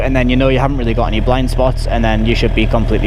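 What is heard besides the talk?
No everyday noise stands out behind the speech.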